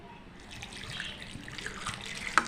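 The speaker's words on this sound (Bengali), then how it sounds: "এবার আমি কিছুটা জল দিয়ে দেব।" Water poured by hand into a crushed lentil mixture, a soft brief trickle and splash at close range, faint and unaccompanied by talk, ending with a small sharp drip.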